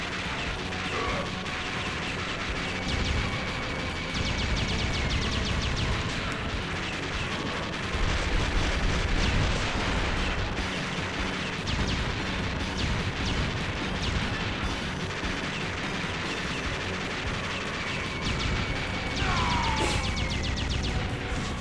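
Dense, continuous arcade gunfire and booming explosions fill the Metal Slug game battle, a loud unbroken barrage of rattling shots and blasts throughout.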